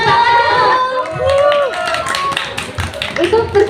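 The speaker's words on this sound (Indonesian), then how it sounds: "Tepuk tangan." A studio audience at a talk show with former JKT48 members claps in scattered, uneven bursts, mixed with voices and chatter throughout.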